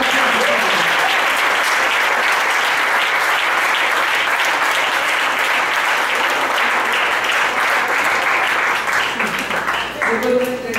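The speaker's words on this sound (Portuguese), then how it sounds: "Aplauda o Senhor pela sua vida." Church congregation applause, a dense continuous roar of clapping that fills the whole stretch at full loudness, with voices blended in and easing slightly near the end.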